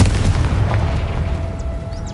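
A Confringo blasting curse explodes in the Hogwarts Legacy video game, a single deep booming blast that rumbles and fades over a couple of seconds.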